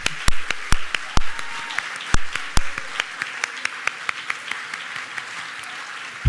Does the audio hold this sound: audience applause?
yes